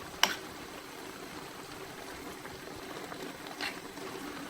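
Chicken curry simmers in a covered pot, a soft bubbling patter under low steady noise with a couple of sharp clicks near the start and later on.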